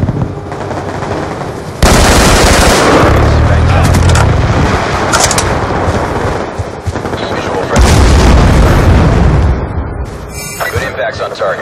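An aircraft strafes the ground in a video game with long, loud bursts of rapid cannon fire. Thunderous rattling volleys are broken by short pauses and end in a quieter tail.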